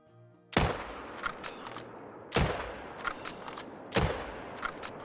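Three booming .375 Magnum rifle shots from the hunting game Call of the Wild ring out about two seconds apart, each a sharp loud crack trailing into a long rolling echo, with no talk.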